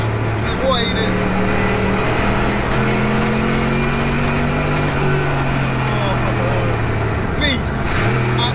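A home-built 750 bhp Lexus LS400 drift car engine roars loud and close, its pitch climbing steadily through a long pull before a gear shift near the end, with voices shouting over it.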